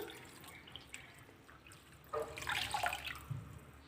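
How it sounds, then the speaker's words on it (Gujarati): Water splashes into a bowl of rice and chana dal for washing, quiet at first, then a louder run of pouring and sloshing in the second half, with no voices. "અને હવે આપણે પાણી ઉમેરી એકદમ સરસ રીતે આને ધોઈ લેવાનું છે"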